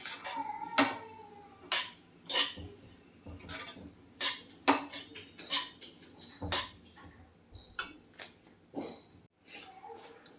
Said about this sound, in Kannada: ಸಣ್ಣ ಉರಿಯಲ್ಲೇ ನೀವು ಇದನ್ನು ಈ ಥರ ಫ್ರೈ ಮಾಡಬೇಕಾಗುತ್ತೆ